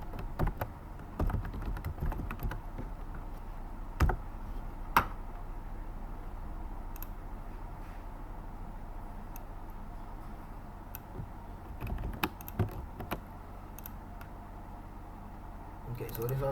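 Typing on a computer keyboard during a C# programming session in SharpDevelop, with scattered clusters of sharp key clicks and a few louder taps over a low background hum, while a person talks.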